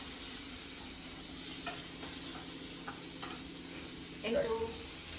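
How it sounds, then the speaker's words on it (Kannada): Ingredients frying in a pan for Korean-style noodles, a steady close sizzle with soft stirring scrapes and a brief louder flare of spattering near the end. "ಈ ಥರ ನೀಟಾಗಿ ನೀವು ಫ್ರೈ ಮಾಡ್ಕೊಳ್ಳಿ."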